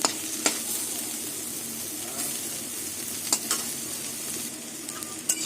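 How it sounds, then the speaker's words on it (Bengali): Soybean chunks sizzle in hot oil in a kadai, a steady moderate hiss punctuated by a few sharp clicks and scrapes of a utensil against the pan. "সয়াবিন ভাজা হয়ে গেছে এবার সয়াবিনগুলো তুলে নেব"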